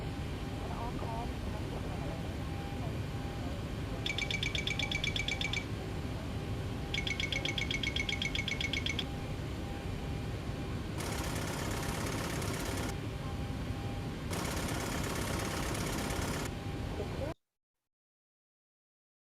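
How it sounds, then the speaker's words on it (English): An aircraft Mach airspeed warning clacker sounds in four bursts of rapid clacking, each lasting about two seconds, over a steady cockpit engine and fan drone during a preflight test. "we verified that the clapper sounded"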